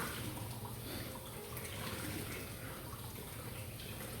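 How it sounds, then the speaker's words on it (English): Warm water runs from a kitchen tap over fresh produce being washed by hand, a steady soft splashing hiss that stays faint and continuous throughout with no talking. "I'm holding it under warm water."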